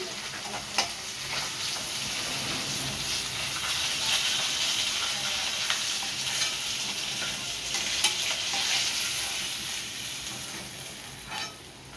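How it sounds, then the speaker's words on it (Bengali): Fish heads fry in oil in a pan with a steady, close hissing sizzle and scattered pops and crackles over twelve seconds, with no talk. "মাছের মাথাগুলো ভাজা হয়ে গেছে, আমি তুলে নিচ্ছি।"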